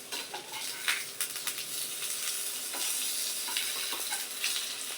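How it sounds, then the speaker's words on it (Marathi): Corn kernel cutlets fry in oil in a pan, giving a continuous close crackling sizzle with occasional clicks and scrapes of a utensil against the pan. "आता ये कटलेट त्याच्यावर टाकते, वरतून तेल परत भाजून झालंय."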